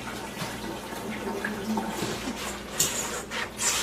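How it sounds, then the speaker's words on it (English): Rubber gloves being washed with water and soap, running water splashing and sloshing steadily at close range with brief louder splashes near the end, no talk. "I'll wash these off first, make sure they're clean"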